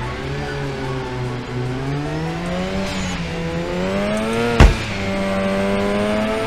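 A race car's engine in the Drift21 drifting simulator game is held at high revs, a loud steady whine that rises and dips slightly, with a sharp burst near the end.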